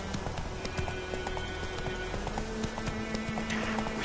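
Roach, Geralt's horse in The Witcher 3, trots with a steady clip-clop of hooves, rhythmic and fairly close, over light ambient game noise without speech.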